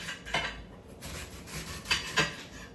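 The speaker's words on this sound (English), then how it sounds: "Chop the purple cabbage like this." A kitchen knife chopping purple cabbage, giving a few sharp close cuts that are spaced apart and separated by softer scraping.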